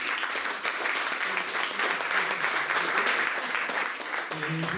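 An audience at an evening event applauds a guest, with dense, steady clapping filling the room for the whole stretch.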